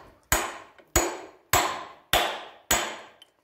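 Five hard hammer blows on the key of a Gardner engine shaft, sharp metallic strikes spaced about half a second apart, each ringing briefly, close and loud with no talking.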